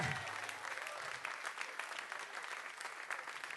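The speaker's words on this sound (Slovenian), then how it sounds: "Dajmo en aplavz tudi za one doma na kavči." A studio audience claps steadily and enthusiastically, a dense wash of applause with a few voices mixed in, heard from a moderate distance.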